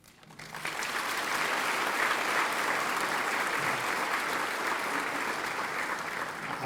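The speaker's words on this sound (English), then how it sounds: "giving a warm welcome with a round of applause for our honoree and his family" Sustained, dense applause from a retirement celebration audience honoring a retiring school official, swelling quickly and holding steady as a broad wash of many hands clapping at moderate distance.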